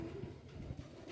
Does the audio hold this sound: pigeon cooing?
yes